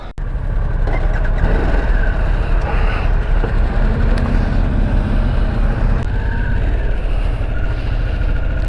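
A 2022 Harley-Davidson Sportster S with standard forward controls rumbles steadily under way on a test ride, a loud continuous engine drone mixed with wind and road noise, with no talk.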